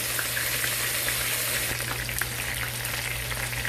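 Chicken wings sizzle and crackle steadily in a hot pan, a dense continuous hiss close by with no talking.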